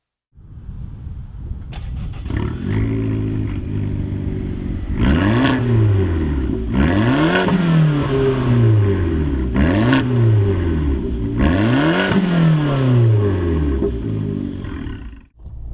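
A 2013 Fiat 500 Abarth starts up, then its engine settles into a loud idle and is revved hard in four or five rising and falling bursts, close and with no talking.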